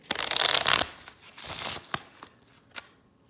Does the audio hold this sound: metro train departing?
no